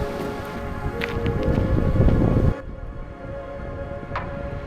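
Strong wind buffets a microphone on an empty beach on a cold, blustery day, a steady broadband roar that drops sharply partway through and continues at a lower level.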